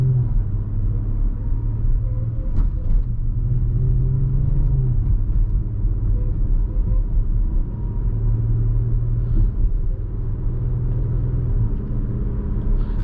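A 2018 Audi SQ5 cruising along a road, its engine a steady low rumble with tyre and road noise held at an even, loud level from inside the cabin throughout.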